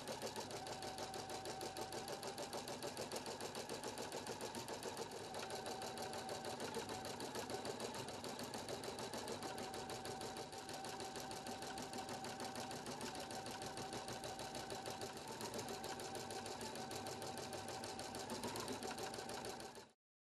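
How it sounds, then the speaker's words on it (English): A Husqvarna Viking Platinum Plus sewing machine embroiders a design on hooped fabric with batting between layers, its needle hammering in a fast, even rhythm that runs on steadily for the whole stretch. "embroider the design"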